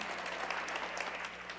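Audience at a political talk event with Governor Steve Sisolak claps steadily in a dense, continuous round of applause that fills the room.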